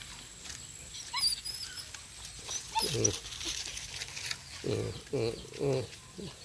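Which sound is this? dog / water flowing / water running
dog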